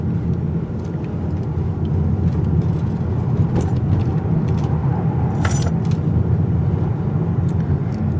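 A 2018 Mazda 6 Signature Turbo taking a corner gives a steady, loud cabin rumble of engine and road noise that holds throughout, with a brief bright scrape or rattle near the middle.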